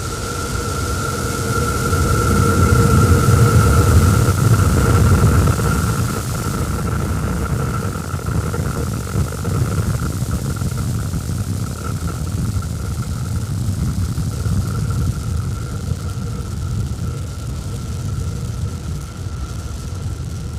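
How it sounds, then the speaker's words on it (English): SpaceX Starship SN11 test vehicle climbing over Starbase in South Texas in fog, a loud, steady, broad rocket rumble that surges early and then holds as a continuous distant roar with no voices. "Starship test vehicle number 11 ascending over Starbase in South Texas"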